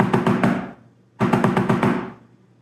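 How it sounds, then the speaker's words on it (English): A historic-style drum rudiment: the bare skeleton of an 11-stroke roll, played twice as two separate bursts of quick, crisp strokes with a short gap between them, close and clear with no talking. "when we play just the skeleton of an 11,"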